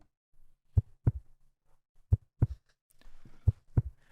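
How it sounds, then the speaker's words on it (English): Heartbeats thud in paired lub-dub beats, three double beats spaced about a second apart, close and isolated against near silence with a faint hiss between them. "I hate the sound of heartbeats."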